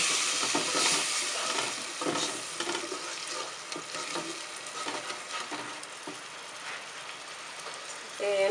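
Tomatoes go into a sizzling sauce while rabbit cooks, a loud, busy frying crackle with stirring scrapes that carries on steadily, with a voice faintly in the background.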